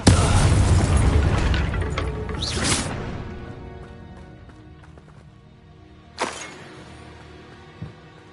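A Confringo fire spell bursts loudly in Hogwarts Legacy, a heavy boom that trails into a long rumbling decay, followed by a sharper crack a few seconds later and a small thud near the end.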